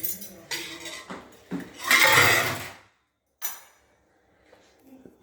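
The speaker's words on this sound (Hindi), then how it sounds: "मैं तब तक बर्तन बुर्तन साफ करने लग जाती हूँ भाई, जो रखे हुए हैं।" Dishes, pots and pans clatter in a home kitchen during washing up, giving a run of loud close clinks and bangs with a bigger rattling burst in the middle, then a pause and a few quieter knocks.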